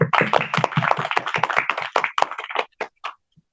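Audience at an Islamic women's sharing session claps to welcome a speaker, a lively burst of many hands close by that thins out into a few scattered final claps and then stops.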